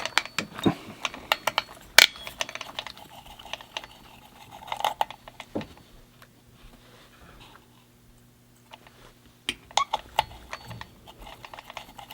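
Small screws on an RC car motor mount are driven and tightened, producing scattered sharp clicks and ticks in irregular bursts with quiet gaps between them, close up.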